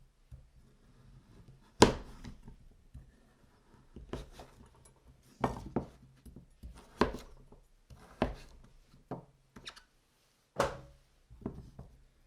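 A knife cuts through a butternut squash on a board in a home kitchen, giving about eight or nine separate dull chops and thunks spaced a second or two apart, each clear and close against a near-silent room.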